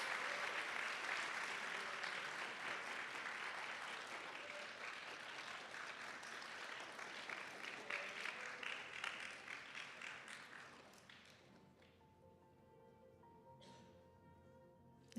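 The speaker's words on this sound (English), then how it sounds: "Let's keep clapping." Audience at a design awards event clapping in a sustained, loud burst of applause that gradually thins and fades out near the end, leaving a few scattered claps and faint room sounds.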